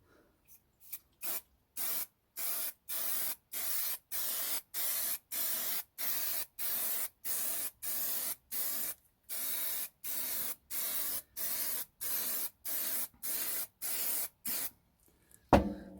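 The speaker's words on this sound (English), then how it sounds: "give this a spray" Aerosol spray paint hissing onto a 1/72 scale model diorama in a long series of short, regular bursts, each about half a second, close and steady, with brief pauses between.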